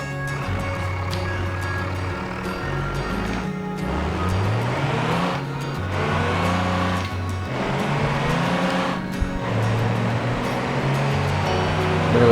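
In the BeamNG Drive video game, a heavy off-road truck's engine labours as it climbs, the revs rising and falling in several surges and staying loud and close throughout.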